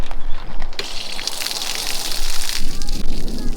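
Pressurized water bursts and gushes from the drain line of a Winnebago Micro Minnie 2100BH RV during winterizing, a loud rushing spray that surges midway, with a voice speaking over it.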